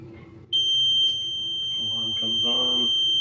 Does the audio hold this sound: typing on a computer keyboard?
no